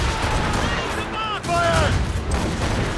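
Ship cannons fire a broadside in the Assassin's Creed Rogue naval battle, heavy booming volleys rolling together under shouted orders from the crew, with creaking and wind-filled ambience throughout.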